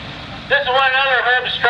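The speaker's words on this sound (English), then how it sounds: "This is one of another Herb's tractors," Allis-Chalmers CA tractor at a threshing show parade, its engine running with a rough, wavering drone that rises abruptly mid-way, heard close amid outdoor background noise.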